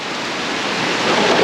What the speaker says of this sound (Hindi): वैसे बहुत अच्छी बात है कि बारिश हो रही है